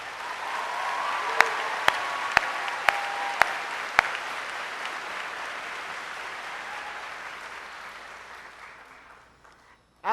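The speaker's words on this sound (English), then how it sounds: "You can applaud them." An audience at a 2017 high school commencement applauds graduating military enlistees with steady, dense clapping that slowly fades out, and a few sharp louder claps stand out near the start.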